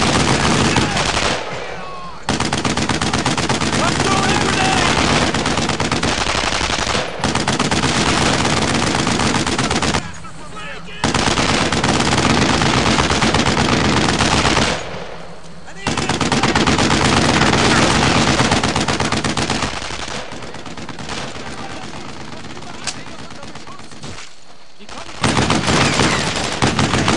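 Heavy machine gun fire in the video game Brothers in Arms: Earned in Blood, a loud, near-continuous roar of rapid bursts that runs for long stretches and breaks off only in a few brief pauses.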